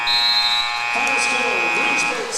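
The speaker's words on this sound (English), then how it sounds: "And there's your buzzer." A basketball game-end buzzer sounds, a long, steady electronic tone over crowd noise and a voice talking, holding for about two seconds.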